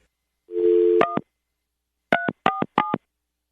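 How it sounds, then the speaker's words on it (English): Telephone dialing: a held tone followed by a short DTMF keypress, then three crisp separate touch-tone beeps in quick succession, clear and close with silence between. "you just have to dial 3 numbers and it goes straight to him"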